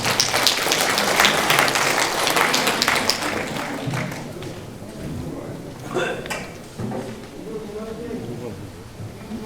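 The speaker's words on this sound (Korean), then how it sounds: "큰 박수로 맞이해주시기 바랍니다." Audience applause at a delegate orientation session greets an incoming speaker, a dense clatter of clapping that fades after a few seconds while an announcer's voice carries over and beyond it.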